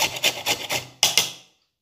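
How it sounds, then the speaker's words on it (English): Lemon zest grated on a handheld grater for a lemon cake: five or six quick, bright rasping strokes in a steady rhythm, close and fairly loud, the last stroke stronger and fading into silence. "You need a grater, any type of grater, and a lemon, and you keep on grating."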